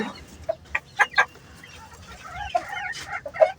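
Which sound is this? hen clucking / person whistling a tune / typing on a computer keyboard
hen clucking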